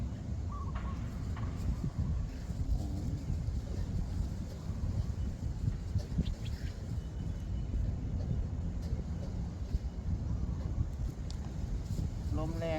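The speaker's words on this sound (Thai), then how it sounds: "ลมมันมาทางทิศทางเราพอดีเนาะ มันพัดมาทางทางเราพอดี" Strong wind buffets the microphone at a fishing spot, blowing straight toward the angler in a steady, loud low rumble that lasts throughout, with faint bird calls and distant vehicle hum beneath.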